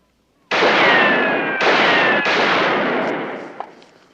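Gunfire bursts out loud and close after a brief silence, three dense rattling volleys running together for several seconds before tailing off.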